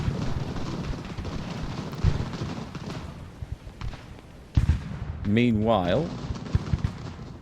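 Musket volleys and artillery thud in an Ultimate General: Revolution battle, a dense rumbling crackle of gunfire that dips briefly before resuming, with a voice speaking over it partway through.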